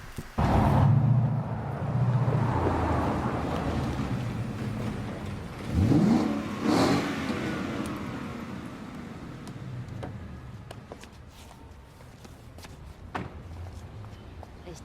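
A Tesla accelerating while playing an artificial engine sound, a loud revving roar that swells and fades, with a second burst midway and quieter scuffing noises trailing off as it ends.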